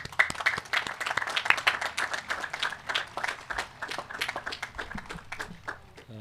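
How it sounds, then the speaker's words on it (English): Applause for the dads fills a high school commencement, many hands clapping in a dense, uneven patter that stays steady and fairly close, then thins slightly toward the end. "A big round of applause to all the dads here."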